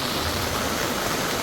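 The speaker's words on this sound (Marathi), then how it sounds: "किती सारा पाणी आलेला आहे तो नदीचा" Floodwater from a swollen river rushes through a village as a dense, continuous roar of moving water, loud and unbroken for the whole moment.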